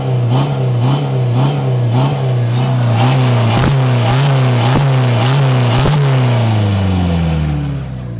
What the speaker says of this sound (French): Donc le bruit, je te disais, 4 cylindres diesel